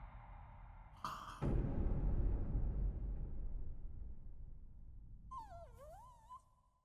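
Dachshund in an anime episode whimpering and wailing, a brief yelp followed by a loud noisy burst that fades, then a high wavering whine near the end.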